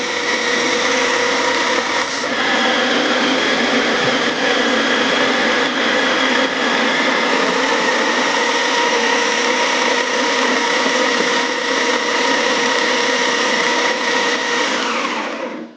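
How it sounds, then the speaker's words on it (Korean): A very loud coffee grinder works through a 20 g dose of coffee beans, giving one steady, close, high-pitched whirring drone that holds unbroken for about fifteen seconds before it stops abruptly. "제가 가지고 있는 그라인더 중에 아마 가장 시끄러울 거예요."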